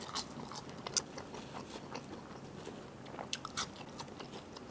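Crisp crunching bites and chewing of restaurant french fries, close to the mic, a few sharp crunches standing out over quiet mouth sounds with no talk.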